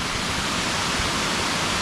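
Rutledge Falls, a waterfall in Tullahoma, Tennessee, pours in a steady, loud, even rush of falling water throughout the short stretch, with no voices.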